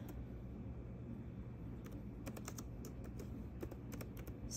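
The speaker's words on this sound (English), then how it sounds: "I'm gonna type with one hand, so that's gonna be worse." One hand types on a computer keyboard, giving sparse, irregular key clicks that thicken into a few quick bursts over a steady low background hum.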